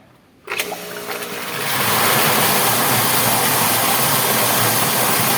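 A Gould SJ20 water pump switches on after a brief quiet moment and runs at about 40 PSI, its motor swelling into a loud, steady whir with rushing water noise.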